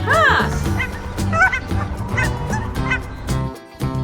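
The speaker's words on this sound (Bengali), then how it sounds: "ডাক মানে হাঁস" A duck quacks loudly and close, in a quick series of nasal calls with brief gaps between them and no background noise.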